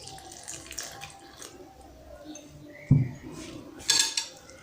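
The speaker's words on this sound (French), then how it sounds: "J'ajoute le lait." Milk is poured into a bowl of accras batter made with grated ginger, garlic and eggs, giving a soft close splashing pour with a couple of sharp clinks of a utensil against the bowl.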